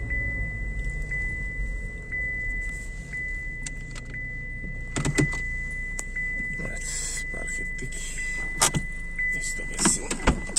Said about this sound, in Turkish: Biz aracımızı şöyle çekelim.